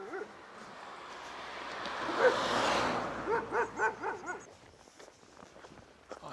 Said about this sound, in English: Also get away from his aggressive dogs.